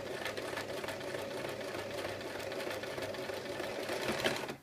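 A sewing machine runs a long, steady stitch along a circle skirt seam, passing over pins set at right angles, with a continuous close whirr and no talk.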